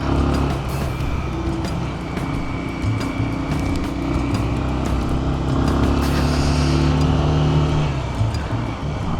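Continuous drone of a 2026 Bajaj Pulsar 150 motorcycle being ridden on the road, a steady loud engine note with wind rush and subtle pitch changes as gears shift, no talking.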